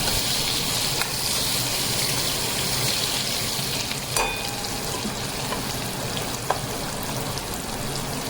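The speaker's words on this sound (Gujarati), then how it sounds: "હવે એને સાંતળવા દઈશું." Chili, tomato, raw mango and jaggery sautéing in a pan, giving a dense continuous sizzle heard close, with a few faint clicks of a utensil and no voices.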